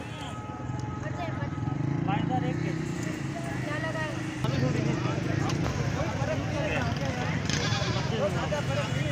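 Goats at the Lalukhet goat market in Karachi, bleating repeatedly amid crowd noise and hooves, with people talking throughout.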